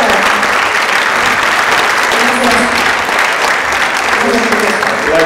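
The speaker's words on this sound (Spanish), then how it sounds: "quiero que le demos fuertes aplausos a esta siguiente ponente" A festival audience applauds loudly and steadily for the next speaker, a dense, continuous wash of many hands clapping with crowd voices mixed in throughout.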